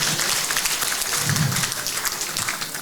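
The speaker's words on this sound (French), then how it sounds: "Applaudissez pour ce qu'elle vient de dire" Gala dinner audience clapping at a banquet hall, moderately loud and continuous with a slight fade toward the end, no one speaking over it.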